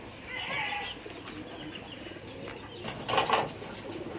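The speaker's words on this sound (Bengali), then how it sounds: "তো তুহিন ভাইয়ের খামারে অনেক সুন্দর সুন্দর কবুতর" Giribaj pigeons at a pigeon farm give soft, low cooing with brief wing flaps and rustles, fairly close but quiet, over a faint background hum.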